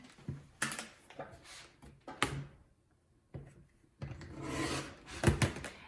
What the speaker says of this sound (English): I'm gonna use my rotary blade to trim them apart now.